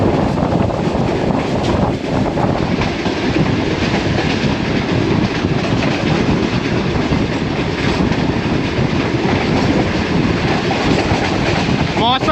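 Aboard the Tezgam express as it runs through Dina railway station at speed: loud, constant wheel rumble and rattling carriages with rhythmic clatter and some wind buffeting, heard from inside the moving train.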